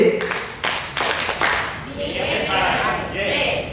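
A group at a food sanitation training session claps in a set rhythmic pattern, with sharp bursts of clapping at first and then a looser patter, while people's voices carry over it nearby.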